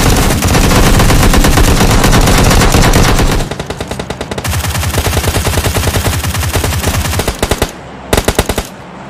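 Video-game gunfire rattles in long, loud automatic bursts, dense and continuous at first, then choppier volleys and a few final separate shots.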